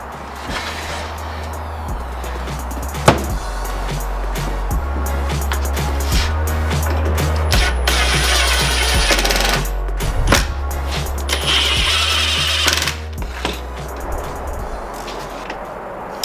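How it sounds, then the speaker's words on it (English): A power driver drives screws to fix an arm onto a bench built from an old wooden door, with repeated loud whirring bursts of varying pitch and clattering handling noise throughout. "Now Zeb's flipping the bench over and sticking the arm on the other side, screwing it in just the way he did before."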